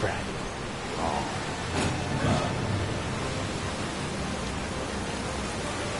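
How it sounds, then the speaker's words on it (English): Steady rain in the Dynasty Warriors 9 video game, a dense, even hiss of falling water that holds at a constant level, while someone speaks over it. "Oh. It's raining."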